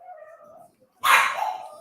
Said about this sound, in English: Can y'all hear that dog barking?